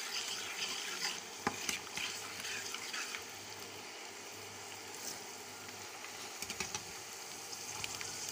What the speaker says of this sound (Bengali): এবার দিব কাজু, এগুলো তেলের উপর দিলে সেন্টটা ভালো আসে।